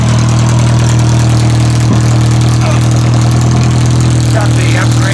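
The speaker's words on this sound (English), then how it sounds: "And of course, we got straight exhaust." A 1973 Triumph Spitfire 1500 with a rebuilt engine and straight exhaust idles loud and close, a steady low, throbbing rumble that holds constant throughout, with faint voices in the background.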